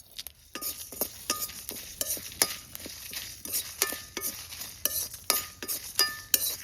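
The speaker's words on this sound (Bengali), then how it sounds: "এই দেখো গোটা মশলা ভাজছি তখনই কিন্তু গন্ধ বেরোচ্ছে" Whole coriander, cumin, dried red chilies, cardamom and fennel are toasted in a pan, a soft sizzle broken by repeated sharp scrapes and clinks of a spatula stirring at an uneven rhythm.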